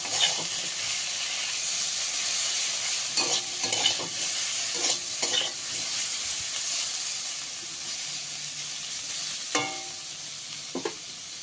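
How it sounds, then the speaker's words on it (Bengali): Onion paste fries in a pan with a steady, loud sizzling hiss, joined by occasional scraping stirs of a spatula, a few clustered together around the middle; close up, no voices. "পেঁয়াজটা দিয়ে খুব ভালো করে ভেজে নিয়েছি"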